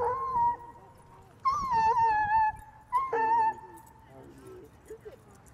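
Ray, a blind dog at a dog park, barks and wails at puppies in drawn-out, howling yelps that come in three close bursts with pauses between them, against faint outdoor background.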